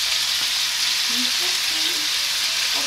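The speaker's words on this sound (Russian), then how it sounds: "Все шкварчит. Все шумит." Plov cooking in a pot, with steady close frying and sizzling noise throughout and faint stirring in the background.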